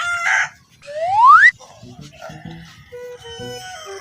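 A rooster gives one loud, rising crow close by, followed by several softer clucks from the fowl, with voices faintly present in the background.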